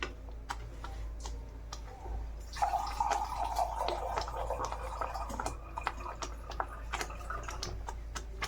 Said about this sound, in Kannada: ನೀರು ಹಾಕ್ತೀನಿ ಸ್ವಲ್ಪ.